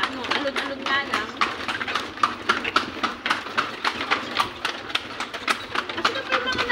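Horse hooves clip-clopping steadily while pulling a kalesa carriage along Calle Crisologo in Vigan City, with a quick regular rhythm of sharp hoof strikes and voices talking throughout.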